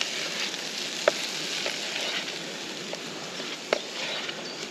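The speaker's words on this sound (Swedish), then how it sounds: "Den blir nästan bränd, löken." Onions sizzling steadily in a hot pan, nearly burning, a continuous crackling hiss with a few sharper pops.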